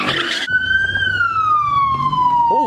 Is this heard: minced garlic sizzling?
no